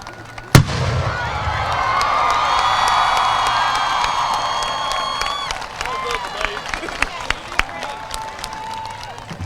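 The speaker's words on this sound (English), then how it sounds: "Fire the cannon!" A ceremonial cannon booms once at an outdoor high school graduation, class of 2021, its sharp blast followed by a long swell of crowd cheering, applause and whistles that slowly fades into scattered claps.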